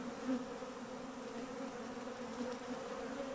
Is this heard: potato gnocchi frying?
no